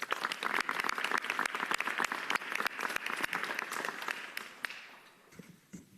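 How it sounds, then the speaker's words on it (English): A small audience claps at a mayoral press conference at Pioneer Works, a burst of scattered, fairly close hand claps that thins out and fades over several seconds. "you deserve a round of applause."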